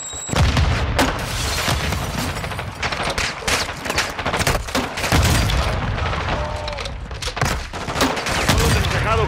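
Bombs and gunfire in Call of Duty: Modern Warfare 2 combat, a dense barrage of close booming explosions and rapid rifle and machine-gun shots crackling throughout at loud, steady intensity.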